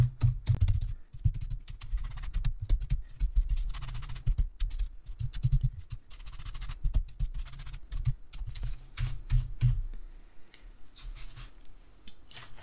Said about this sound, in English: So I'm just going to see if this brush will get most of it off.